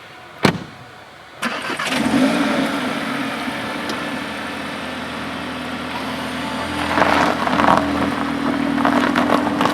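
A 2021 Audi S3 starts with a sharp crank and catch, then settles into a rumbling idle that swells as the car rolls closer, with a few clicks and knocks at the start.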